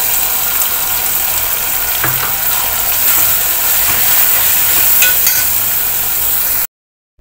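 A loud, steady sizzle of spices frying hot in a pan for misal, with a few scraping clicks before it cuts off abruptly.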